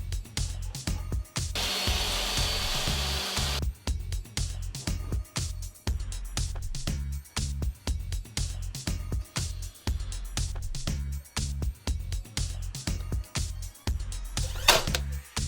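A brad nail gun firing nails into wood, sharp percussive shots repeating in an irregular rhythm, with a loud whooshing burst of air partway through in a workshop.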